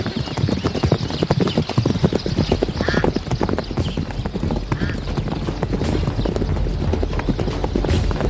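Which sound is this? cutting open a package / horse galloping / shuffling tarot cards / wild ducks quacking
horse galloping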